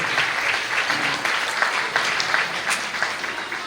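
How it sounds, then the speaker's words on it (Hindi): Church congregation clapping loudly together during an Easter service, a dense, sustained burst of applause that fills the room throughout with no speech over it. "जरा जोरदार तालियां बजाएं ताकि आपकी सुस्ती दूर हो।"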